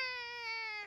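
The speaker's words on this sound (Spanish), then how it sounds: "Es el bebé Alexander" Baby crying in a Peppa Pig cartoon, a single sustained, steady, piercing wail that cuts off abruptly after about a second.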